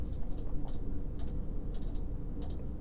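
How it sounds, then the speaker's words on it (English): Fast typing and clicking on a computer keyboard, heard close up in irregular bursts of keystrokes over a steady low hum, with no one speaking. "So much clicking."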